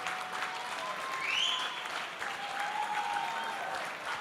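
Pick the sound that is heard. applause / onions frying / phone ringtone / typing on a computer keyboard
applause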